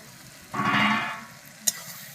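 Curry being stirred in a hot frying pan: a close, sizzling burst of frying and scraping that swells for about a second, then fades, with a brief sharp clink of the utensil near the end.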